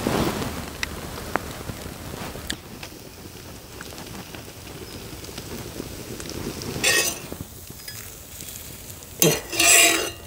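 Ragi masala dosa roasting on a hot pan, a soft continuous sizzle with light scraping and stirring, ending in a few louder bursts of crackle near the close.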